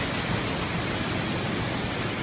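Water pouring down the Yalova double waterfall (Çifte Şelale), a dense, unbroken roar of falling water that stays close, loud and steady with no pauses.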